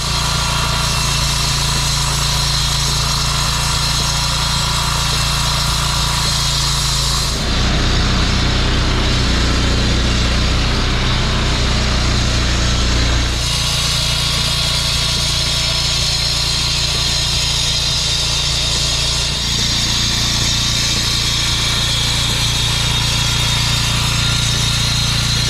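A rented concrete saw cuts concrete, its engine roaring loud and steady throughout, with the blade bite shifting in tone as it sinks into the slab mid-cut.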